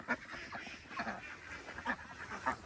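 Several ducks resting in the shade on a farm, quacking in short repeated calls close by, fairly loud, over a constant outdoor background.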